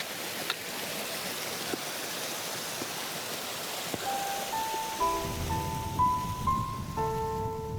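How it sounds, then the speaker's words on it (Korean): A mountain waterfall along the Mount Iwaki hiking trail rushes in a steady, soft hiss of falling water, with faint tonal sounds creeping in over the later part. "심심치 않게 폭포가 나타나주니까"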